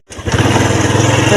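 A small motorcycle engine starts close by and settles into a loud, steady, buzzing idle with a rapid regular putter, heard alone.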